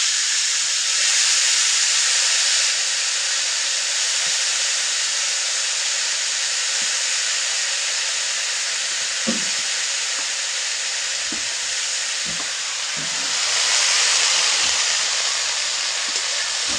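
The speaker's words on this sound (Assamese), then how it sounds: "এতিয়া আলুখিনি ভালকৈ ভাজি ল'ব।" Potatoes and onions frying in a pan, a loud continuous hissing sizzle that swells near the end, with a few faint utensil knocks.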